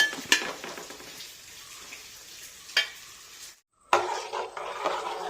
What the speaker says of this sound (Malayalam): ഇതാ ഇനിയും എല്ലാം കൂടെ ഇളക്കി ചെറുതീയിൽ ഫ്രൈ ചെയ്ത് എടുക്കാം